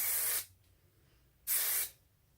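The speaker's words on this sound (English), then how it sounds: "Firm&Fabulous hairspray. This stuff is awesome." Firm&Fabulous hairspray sprayed onto hair in two short bursts, each a close, bright hiss lasting under half a second, separated by a quiet pause.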